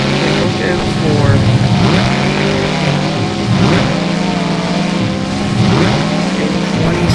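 Monster truck engines roar and rev during a world finals time attack, loud and continuous with pulsing throttle swells, while an announcer talks over the racing.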